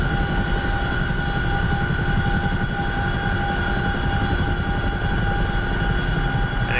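A CH-47 Chinook helicopter in the DCS flight simulator, its twin rotors and turbine engines giving a steady, loud, continuous drone with rhythmic blade chop throughout.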